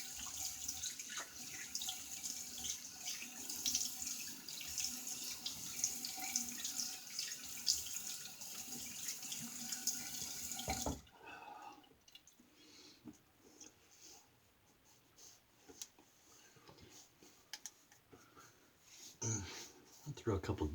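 Tap water runs steadily into a sink for about eleven seconds as a shaver rinses during a wet shave, then shuts off, leaving faint drips, handling noises and breathing.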